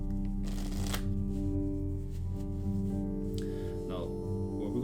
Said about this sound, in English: the tabled riffle shuffle.